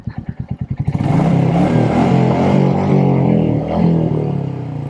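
A Royal Enfield Meteor 350 with its catalytic converter removed chugs through a series of rapid exhaust pulses, then opens up into a loud, sustained, throaty drone close by.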